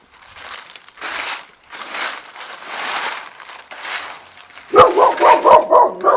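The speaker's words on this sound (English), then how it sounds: "This dog really doesn't like me" A dog barks repeatedly at a visitor, several loud close yips and barks in quick succession after a stretch of rustling and handling noise.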